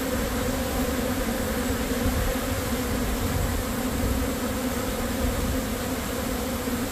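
Honey bees in a hive used for Nicot queen rearing buzz in a dense, steady drone, loud and close with no pauses, and no voices are heard.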